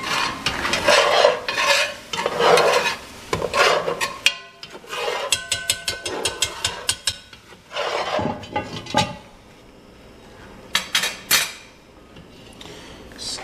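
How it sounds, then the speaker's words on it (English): A plasticky utensil stirs Cajun chicken, pork and sausage sauce piquante in a nonstick pot with close, vigorous, rhythmic scraping and swishing strokes, separated by short pauses and light clatter. "you can be a little more aggressive with your stirring"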